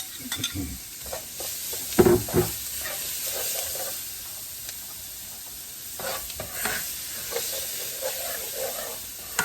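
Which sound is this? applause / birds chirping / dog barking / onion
onion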